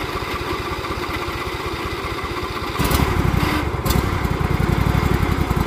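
A lawn tractor engine runs with the choke on, a loud close rhythmic chugging that grows heavier and rougher partway through with a few brief surges.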